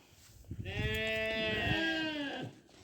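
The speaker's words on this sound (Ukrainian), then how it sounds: "Можливо, комусь і не подобається шум, але вівці в нас завжди блеють" A single long, wavering sheep bleat, loud and close, lasting about two seconds against a quiet background with no talking.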